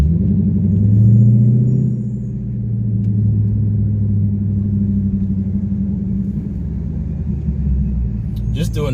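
Dodge Charger SRT8 with engine upgrades pulling under acceleration, a loud low rumble that swells early then holds steady, heard from inside the car in traffic behind a trash truck.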